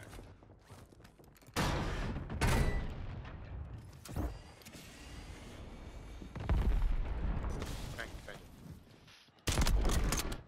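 Bursts of gunfire from a Glock 45 pistol in the shooter Warzone (MW3) crack out in several loud clusters, with heavy rapid shots and quieter ambient game noise in between.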